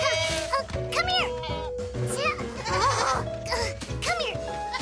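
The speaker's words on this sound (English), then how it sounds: "Suddenly, George wasn't sure they could handle the goats after all." Several cartoon goats bleat repeatedly and overlap in wavering cries, close and fairly loud, with voices mixed in.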